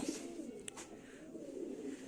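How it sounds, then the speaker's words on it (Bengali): Racing pigeons arriving at their loft at the end of a 40-kilometre race, giving soft, faint cooing calls with a brief sharp sound partway through. "এই জায়গায় আরো চারটা কবুতর আসলো"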